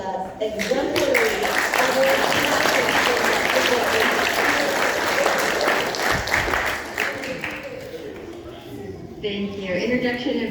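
A second round of applause at a school district board meeting, sustained, dense clapping from the audience that continues for about ten seconds with a brief dip near the end.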